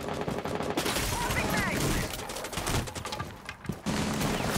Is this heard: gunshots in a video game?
yes